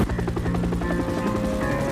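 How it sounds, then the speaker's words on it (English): A police helicopter flies overhead above South Central Los Angeles, its rotor beating in a loud, steady, rapid chop with a constant engine whine, close and continuous without any talk. "They said that the helicopters couldn't see people"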